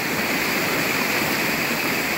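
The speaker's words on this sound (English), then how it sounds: "it kind of goes down into a waterfall right at our feet" Close, loud waterfall rushing steadily right below a rocky stream spot on a rainy day, a dense continuous roar of falling water with no voices over it.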